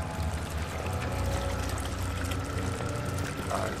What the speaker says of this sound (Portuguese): Água.